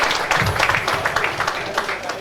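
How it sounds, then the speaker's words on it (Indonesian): Congregation applauding for Jesus at a Christmas prayer celebration, irregular, moderately loud clapping with a few voices mixed in. "beri sekali lagi tepuk tangan buat Tuhan kita Yesus"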